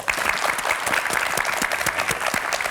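Studio audience applause on a Korean TV variety show, dense and even clapping from many people, loud and close, continuing steadily without speech.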